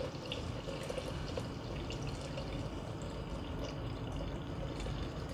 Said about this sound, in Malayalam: To this we are going to add water.